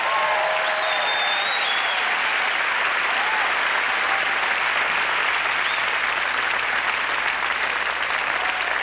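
A large audience at a stand-up comedy special applauds continuously, a dense, loud and even wash of clapping that fills the whole stretch without pause.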